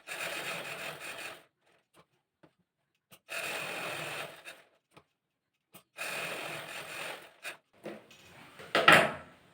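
A sewing machine stitches a square neckline on a chudithar in three separate bursts of steady whirring, each a second or so long, with quiet pauses and small handling clicks in between.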